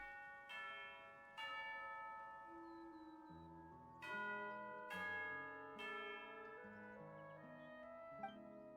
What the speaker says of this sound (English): Yeah, is that a bell?